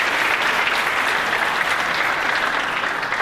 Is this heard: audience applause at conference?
yes